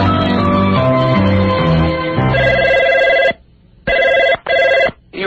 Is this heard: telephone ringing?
yes